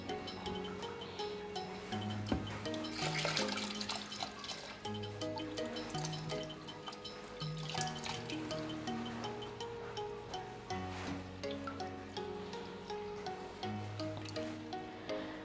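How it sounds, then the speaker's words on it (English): New water is poured onto a sponge in a planted guppy and shrimp aquarium, making a continuous soft trickling and splashing with scattered drips, fairly quiet and close. "I pour the new water on the sponge, so it just breaks the force of the waterfall."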